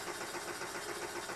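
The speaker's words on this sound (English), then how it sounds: "It's kind of a thrill to see a steam engine run under load." A small model steam engine runs under load, giving a steady, even mechanical chuff and hiss at close range with no voices.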